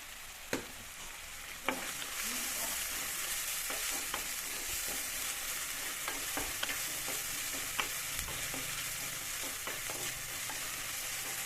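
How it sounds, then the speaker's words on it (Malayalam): Shallots sizzling with a pinch of salt in a pan, a steady close frying hiss broken by frequent scraping stirs and a few sharp taps of the spoon, with no talking. "ആ ഉപ്പിൽ ആ ഉള്ളി ഒന്ന് പെട്ടെന്ന് മൂത്ത് വരും"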